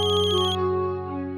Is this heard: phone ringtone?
yes